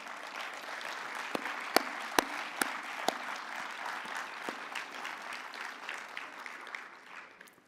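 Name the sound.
audience applause at closing ceremony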